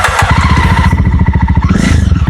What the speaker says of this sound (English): I love this exhaust sound of this bike.